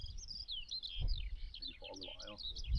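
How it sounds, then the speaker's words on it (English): Birds singing in dense, jungle-like woodland beside a barn being demolished: several chirping, warbling calls overlap in a lively chorus at moderate distance, with low background rumble. "Huge bird sounds."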